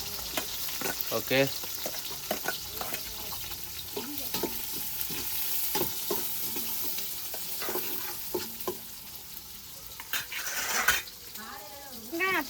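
Onions and green chilies sizzle in hot oil with curry masala in a village-style pan for vegetable biryani, with close frying, clinking utensil scrapes and stirring, and a brief spoken word.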